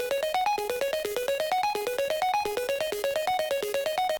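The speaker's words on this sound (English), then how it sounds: "I also added an ARP, which sounds like this." Rapid synth arpeggio in a remix cycling through bright plucky notes in an even, fast rhythm, repeating patterns that step up and down, loud and clean.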